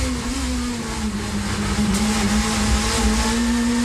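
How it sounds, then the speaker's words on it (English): A Renault touring car engine in a 1990s touring car championship race, heard from onboard as it heads for the chicane while missing gear changes: a loud, sustained, buzzing engine drone that stays high and steady, with small pitch dips. "listen to the Renault's engine note as he heads for the chicane"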